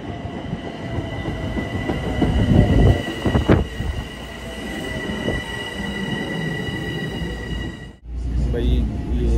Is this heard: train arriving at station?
yes